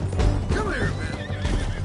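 A horse in Red Dead Redemption 2 neighs loudly and close, a shaky whinny rising and falling over a steady low game hum, with faint hoof clops underneath.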